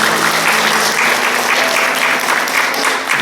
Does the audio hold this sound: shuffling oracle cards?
no